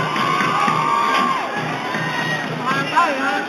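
Football supporters in the stands roar and cheer steadily through a tense, heated match on a slippery pitch, with a drawn-out horn-like tone and scattered shouts over the dense crowd noise.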